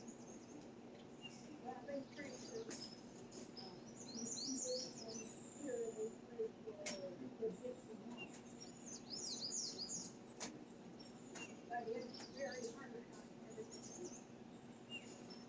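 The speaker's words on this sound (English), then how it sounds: "I don't know what kind of bird that is." Birds call and chirp outdoors in the countryside, with scattered high twittering phrases over a steady background hum of insects, moderately distant and fairly faint throughout.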